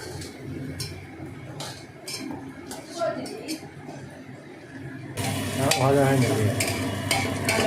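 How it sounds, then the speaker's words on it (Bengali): Onions sizzle and crackle in a pan over high heat while a utensil stirs and clinks, with the frying growing louder and busier toward the end. "ভাজা হচ্ছে এখনো চলছে ভাজা পেঁয়াজ ভাজতে বেশি সময় লাগে"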